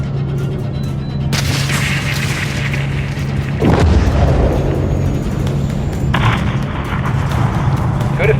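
A B-52 bomber's missile strikes a hangar in the video game Call of Duty MW3, setting off one loud, heavy boom partway through over a constant low rumble of engines and battle noise.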